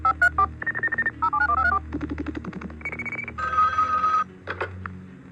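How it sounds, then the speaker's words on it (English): An electronic switching telephone exchange line: a rapid series of dialing tones gives way to a telephone ringing, as bursts of bright, clean electronic tones alternating with short gaps, close and clear with no talking. "The time from the moment dialing is completed to the moment the called number rings is a small fraction of a second."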